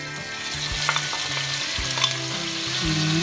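Shrimp and pounded young tamarind chili paste stir-frying in hot oil, a steady close sizzle broken by periodic scraping stir strokes, with no talking.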